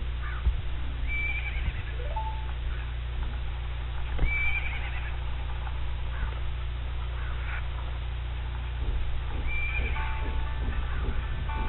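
A horse in the video game Majora's Mask whinnies several times over a steady low game hum, with light clip-clop hoofbeats scattered throughout.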